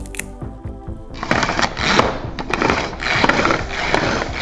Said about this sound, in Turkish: Ben bilerek el rondosunu kullandım.